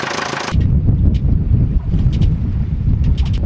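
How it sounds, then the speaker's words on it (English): A sailboat's engine runs with a steady low rumble, with wind buffeting the microphone and faint water noise; a brief burst of hiss at the start. "Engine check."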